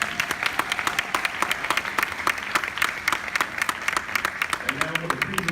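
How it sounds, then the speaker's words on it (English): Applause from a gala audience rings out for a young honoree, steady dense clapping throughout with sharp individual claps standing out near the front, and a voice starting to speak underneath near the end. "give him another round of applause"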